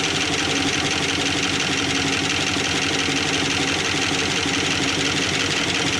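A 1970 Dodge Charger V8 engine, revived after sitting for 20 years, runs steadily at idle with a loud, continuous mechanical rumble and faint knocking, close by and without talk.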